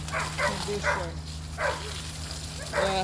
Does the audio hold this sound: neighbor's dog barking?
yes